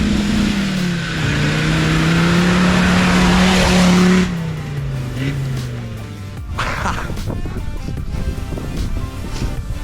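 A Suzuki Jimny converted to a Land Rover TD5 diesel engine revs hard, a loud falling engine note that cuts off, then quieter crackles and pops from the exhaust.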